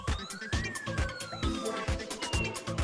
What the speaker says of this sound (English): I'm going to sound that siren one last time.